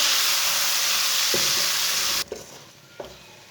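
Chopped tomato and green chillies cook in a hot pan, sending up a loud, continuous close sizzle that cuts off abruptly after about two seconds, followed by a couple of soft utensil knocks in quieter sound.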